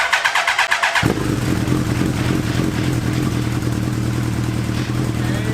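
A Chinese Hayabusa trophy buggy engine with a new exhaust fires up after a quiet second and settles into a steady, fairly quiet idle with a low, even rumble and faint rattle.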